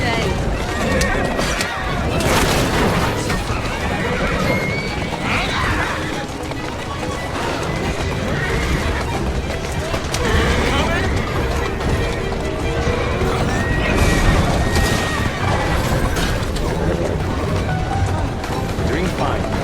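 Horse-drawn carriages galloping through Victorian London streets in the video game Assassin's Creed Syndicate: pounding hooves, rattling wheels, neighing horses and crashes in a loud continuous chase, with voices calling out over it.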